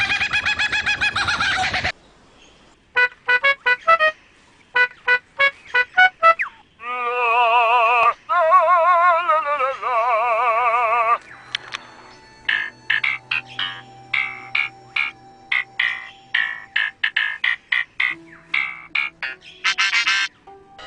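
A lyrebird at Adelaide Zoo mimics sounds it has heard, with a varied run of loud calls, warbling trills, buzzy tones and quick clucking bursts in separate phrases, followed by rapid clicking notes.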